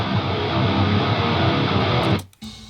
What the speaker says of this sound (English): I have these Neural DSP guitars that I rendered out.